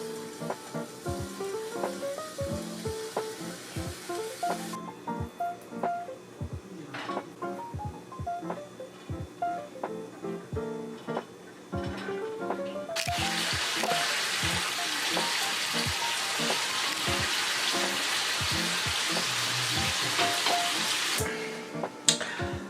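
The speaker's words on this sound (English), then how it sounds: "I'm gonna lay out my bacon" Strips of bacon sizzle and crackle in a hot pan, a steady loud frying hiss with scattered pops and scrapes, growing denser and brighter partway through as the fat renders.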